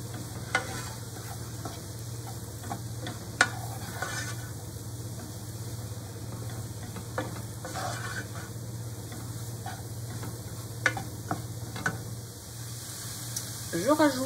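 Mushrooms sauté in a pan with a steady sizzle while a utensil stirs and scrapes in scattered clicks and knocks, all under a constant low hum.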